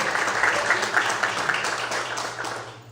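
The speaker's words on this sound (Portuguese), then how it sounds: "Aplaude o Senhor, glorifique Ele." A church congregation applauds in a dense, steady burst of clapping that swells and fades slightly, with faint voices mixed in and a low hum beneath.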